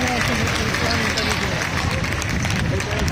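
A crowd at the Aurat March rally in Karachi claps steadily and loudly, the dense applause mixed with cheering voices and crowd babble throughout.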